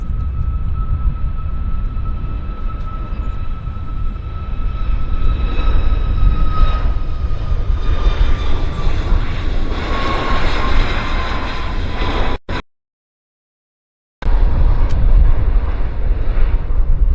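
Airliner jet engines roar at Vancouver Airport, a loud steady rumble with a whining tone that slowly falls in pitch, broken by a brief gap of silence before the roar resumes.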